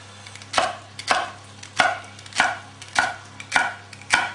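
A knife chops celery on a cutting board in seven evenly spaced, crisp thuds about half a second apart, close and clear with no talking.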